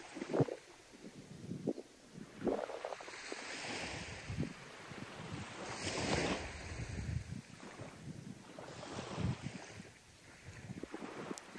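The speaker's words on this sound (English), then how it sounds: "hear the soothing sound of the ocean waves" Ocean waves wash and surge in slow swells every few seconds, mixed with gusting wind buffeting the microphone, fairly close and without any voices.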